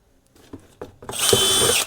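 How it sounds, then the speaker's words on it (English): A few light taps and handling knocks, then a power drill whirs loudly as it bores through a cardboard beer box, running steadily to the end. "drill a hole"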